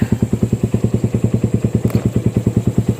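A motorcycle engine chugs steadily nearby, its rapid regular thumping pulses loud and even throughout, with no talking.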